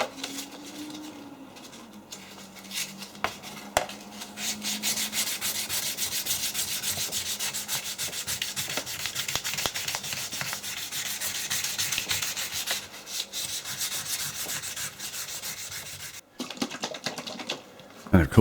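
Cast metal handle being hand-sanded with 1200 grit sandpaper: a continuous, close rasping scrub of quick back-and-forth strokes lasting most of the stretch, with a brief break near the end.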